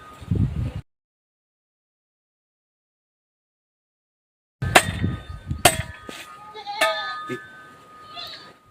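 A goat bleats a few times close by amid shuffling and rustling, following a brief noisy burst and several seconds of silence.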